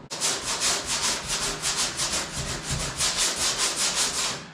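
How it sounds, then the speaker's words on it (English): A sander with Velcro-backed pads works over a door of a 1979 Ford F-150 truck, making a continuous close abrasive hiss with a rapid rhythmic pulsing of strokes. "These are a sander."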